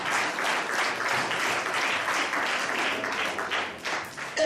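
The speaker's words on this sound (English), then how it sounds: "Let's all applaud" Steady applause from a crowd at a school ceremony commissioning a new classroom block, dense continuous clapping heard close and alone for several seconds before a faint tone at the end.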